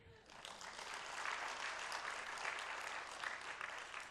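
A church congregation applauding steadily, a dense wash of clapping that swells slightly and holds for several seconds.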